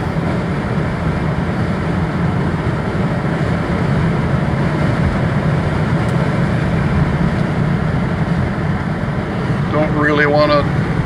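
A 2004 Ford F-150 Heritage regular-cab long-bed pickup with a 4.2-liter V6 accelerates on the road, a loud, steady engine and road drone heard from inside the cab with wind noise throughout.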